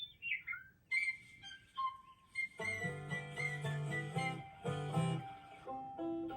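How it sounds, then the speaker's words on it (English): Meadowlark song notes ring out as a few clear, descending whistled phrases, then give way to a sustained, plucked instrumental tune built on that melody. "my favorite bird's a meadowlark. And the first few notes are..."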